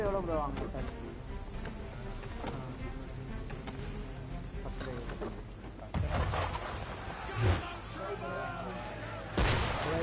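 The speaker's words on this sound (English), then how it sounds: "Why is he shooting at us?" Cannon fire from a ship in Assassin's Creed III booms several times, muffled and somewhat distant, under ongoing dialogue and music.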